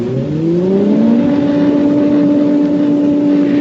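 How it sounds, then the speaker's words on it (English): An electric motor spins up to drive an air jet for a drag test, giving a loud steady hum with tones rising in pitch as it accelerates, then holding a constant drone. "I'm going to start the motor now."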